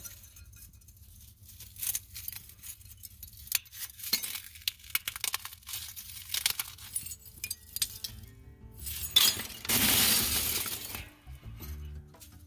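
Coconut shell pieces and bones clatter as they are dropped for biochar, with scattered sharp clinks and rattles, close by, and a louder burst of tumbling pieces near the end.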